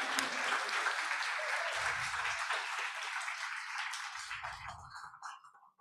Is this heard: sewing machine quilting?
no